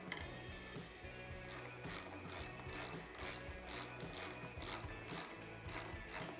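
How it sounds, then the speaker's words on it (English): A hand ratchet tightens the seat pivot bolt on a vintage Triumph chopper motorcycle, clicking in quick bursts of strokes with a steady rhythm, close up, with no talking. "So I'm gonna go ahead and tighten this pivot up."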